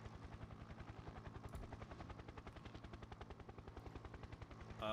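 A helicopter in a modded video game gives a fast, steady rotor chop, faint and continuous throughout.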